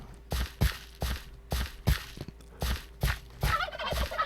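Turkeys in the Minecraft Tektopia mod make a run of short, even gobbling squeaks, about eight of them in quick rhythm, close and clear, with no talk over them.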